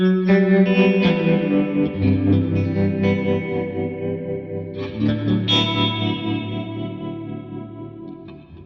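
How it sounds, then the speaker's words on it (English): Sustained electric guitar chords through a Line 6 Helix tremolo preset ring out with a wavering, shimmering tremolo, notes pulsing in volume as they slowly decay and shift. "The big tremolo sound."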